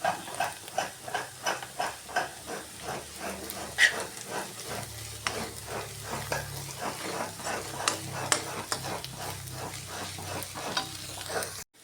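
Masala for a Kerala egg roast stirred and sautéed in a pan, a steady sizzle broken by repeated rhythmic scraping strokes of a spoon, close and fairly loud with no talking.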